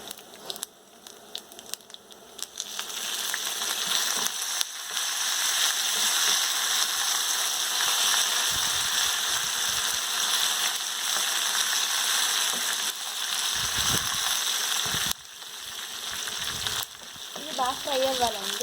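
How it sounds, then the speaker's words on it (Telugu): Dried red chillies and curry leaves tempering in hot oil, a steady close crackling sizzle that runs continuously with brief pops and a few stirring scrapes. "బాగా ఫ్రై అవ్వాలండి."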